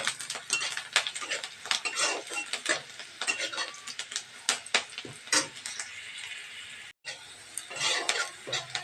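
Onions frying in a pan, stirred with a utensil, with crackling sizzle under repeated scraping and clinking strokes, close and fairly loud, briefly dropping out once.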